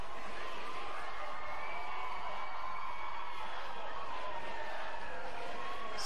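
Home crowd cheering at a gymnastics World Cup in Baku, a steady, distant arena roar of applause and whoops with no clear voices standing out.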